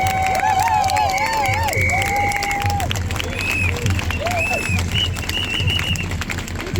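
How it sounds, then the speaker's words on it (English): A protest rally crowd cheers, whistles and shouts in a sustained, dense wall of noise, with applause mixed under high whistling calls throughout. "give yourselves a big round of applause for turning up and showing solidarity this evening"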